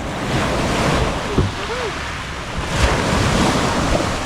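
Strong wind by the sea buffets the microphone with a loud, continuous roar over surf and waves, near and unbroken, with brief faint voices and a whistle-like tone briefly rising through it.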